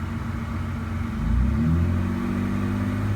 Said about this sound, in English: put the key in, start her up